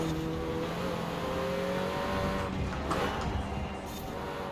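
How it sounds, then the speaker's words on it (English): A 2018 Renault Megane R.S. in the Forza Horizon 4 racing game gives a loud, continuous engine drone with steady layered tones, holding close and even, with a slight lift toward the end. "It makes nice turbo sounds, got a decent exhaust sound anyways, fairly aggressive."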